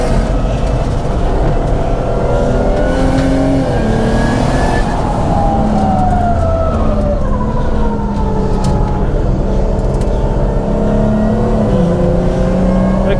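A tuned 500 hp Audi A5 with a turbocharged VR6 driving hard on a race track, its engine note rising and falling through gear changes at high speed, loud and continuous throughout with no talk.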